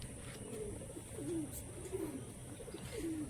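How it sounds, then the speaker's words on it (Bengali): Madras long-distance flying pigeons give low, throaty coos in short repeated phrases about once a second, fairly close, over a steady background hum. "খুব সুন্দর পায়রা।"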